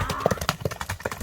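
A horse running at speed during a trotting-pace test in Kara-Suu, its quick clip-clopping hoofbeats arriving in a fast, uneven rhythm, close and moderately loud, with faint voices in the background.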